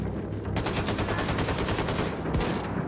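Rapid automatic gunfire in Wolfenstein 2: The New Colossus, set in New Orleans: a dense, loud, continuous burst of shots with a steady stutter, dropping briefly and then resuming near the end.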